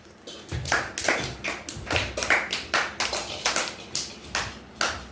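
Steady rhythmic hand claps from a group of children at an anganwadi, roughly two per second, sharp and close, continuing without a break.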